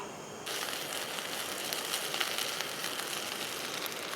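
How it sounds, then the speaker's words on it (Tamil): Baby shrimp fry crisp in hot oil with a steady, close hiss and crackle. The sizzle jumps in abruptly and then holds dense and even, with no voices. "மொறு மொறு மொறுன்னு பொறிச்சு எடுத்துடணும்"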